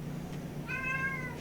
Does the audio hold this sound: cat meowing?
yes